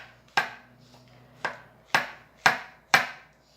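A knife cuts shiitake mushrooms with stems removed into thin strips about 0.2 cm thick, five crisp chops on a cutting board at an uneven pace, close and clear with no talking.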